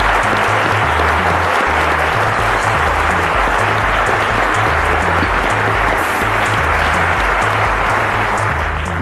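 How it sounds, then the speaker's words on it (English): Loud, sustained audience applause fills the studio at the 2015 Cowbellpedia televised quiz show final, steady clapping throughout with low musical tones running underneath. "Ladies and gentlemen, a round of applause."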